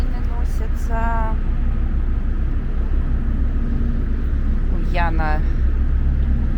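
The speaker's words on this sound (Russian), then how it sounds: "Машины носятся." Busy city traffic in Krasnodar, with cars rushing past as a steady, loud road rumble and a couple of brief tonal whooshes, voices briefly audible over it.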